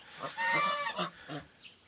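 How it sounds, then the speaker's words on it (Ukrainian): A domestic goose on a small farm gives a series of loud, nasal honks, a few close calls in quick succession that taper off, with no talk over them. "Гусочка встала з яєць, щоб поїсти, вже вона гарно оседілася."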